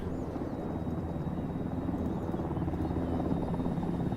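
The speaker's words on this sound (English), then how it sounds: "I hear the helicopter." Helicopter in the military game Arma 3 flying nearby, a steady dense rotor drone holding constant and fairly loud throughout, with no other sounds over it.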